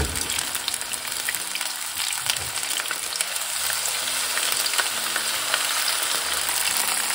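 Apple kakiage fries in oil at about 160 degrees, giving a dense, even crackling sizzle that holds steady and close throughout, with no talk.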